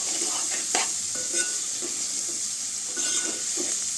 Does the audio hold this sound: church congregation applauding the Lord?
no